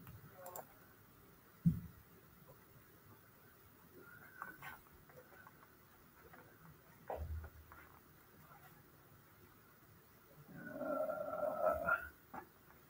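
Keys are pressed on a calculator in scattered soft clicks and taps, close but faint, with quiet pauses and a brief murmur of a voice.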